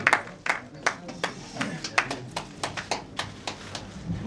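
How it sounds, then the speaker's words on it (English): A reunion gathering of a university class applauds a guest speaker with scattered, distinct claps at a loose rhythm, fairly near, from a small group, with a voice speaking beneath them. "Please a round of applause for him."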